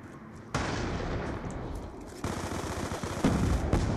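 Automatic weapon fire on the Vertigo map in Black Ops 2: long, loud, sustained bursts that break off and resume several times, with sharp shots punching through near the end.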